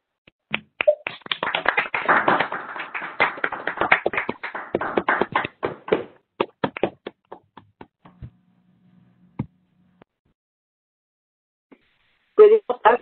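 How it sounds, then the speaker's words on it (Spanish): Scattered claps come through participants' microphones on an online conference call, a burst of uneven taps for several seconds that thins into a few isolated claps, then a brief louder flurry at the end. "les pido activen sus micrófonos y le regalen un fuerte aplauso"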